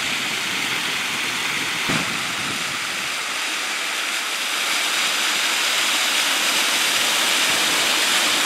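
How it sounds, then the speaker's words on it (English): A waterfall in Wunnamurra Gorge in the Kimberley roars continuously, a loud, steady broadband rush of falling water close by, with no voices. "Be a waterfall there."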